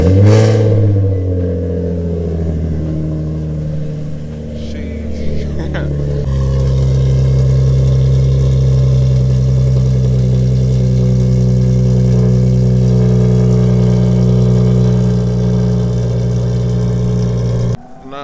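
A Bugatti Chiron engine cranks and fires up, revving loudly before settling into a deep, rumbling idle that continues steadily, with voices briefly over it, at a Cars & Coffee meet in Morrisville.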